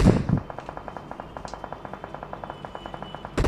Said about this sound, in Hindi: मेरा टीममेट किसी पे फायरिंग करने लगता है।